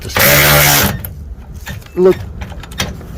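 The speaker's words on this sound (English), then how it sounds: "thank God for power tools" A short, loud burst of a power tool whirring for under a second, tightening a bracket while installing an air suspension system on a RAM 3500, followed by quieter workshop clatter and a brief mechanical squeal.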